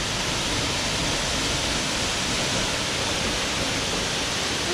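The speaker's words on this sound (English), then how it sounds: "It's a nice looking waterfall." The El Silencio waterfall near Murillo, Colombia, gives a steady, dense rushing roar that stays even and close throughout, with no voices.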